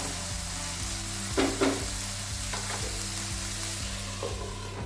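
Capsicum and onion fried rice with soy sauce sizzles steadily in a pan, a continuous frying hiss with a few brief stirring scrapes, close and alone.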